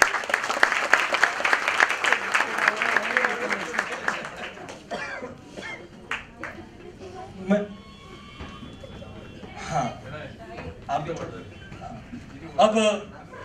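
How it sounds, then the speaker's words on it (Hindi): Audience applause at an indoor event, loud dense clapping for about four seconds that then thins to scattered claps and short bursts, with people talking in between. "इन लोग के लिए भी जोरदार ताली है"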